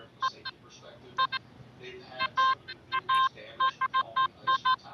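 Metal detector signalling buried trash such as foil, giving repeated short high electronic beeps in quick clusters with brief gaps, fairly loud over a faint outdoor background.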